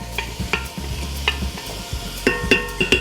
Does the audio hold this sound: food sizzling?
yes